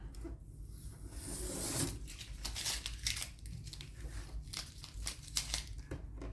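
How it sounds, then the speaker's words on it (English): Masking tape peeled from watercolour paper after painting a flower card, a run of crinkly, tearing rasps and rustles at close range with no talking. "So let's take off the tape and bring this over."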